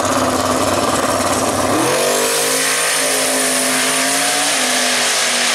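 A turbocharged drag racing wagon truck launches and accelerates down the strip at Xtreme Raceway Park, its engine roaring loud and rising in pitch as it pulls away, with crowd and track noise behind.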